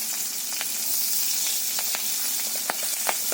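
Onion, green chillies and spices sizzling in hot oil in a village kitchen, a steady close crackle with sharper pops scattered throughout, no voices.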